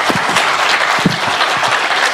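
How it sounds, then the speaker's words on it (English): A conference audience gives a round of applause as a speaker on security code review is introduced, with steady, dense clapping throughout, fairly close and loud, and no talking. "So please give a big round of applause to Nicola."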